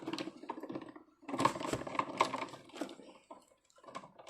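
A hand-cranked scrapbooking die-cutting machine is turned, giving a close run of uneven clicking and grinding bursts with short pauses between turns.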